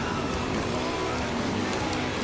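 Vehicle engines roar continuously in the Motorstorm off-road racing video game, a dense, steady revving drone with no pauses.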